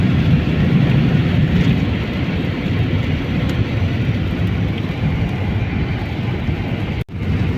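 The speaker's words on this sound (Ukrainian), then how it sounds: "А дощ іде, не перестає." Rain falling outdoors in a Polish village, a broad continuous wash of noise with a low rumble beneath, steady and loud, cut by a sudden brief dropout near the end with no talking.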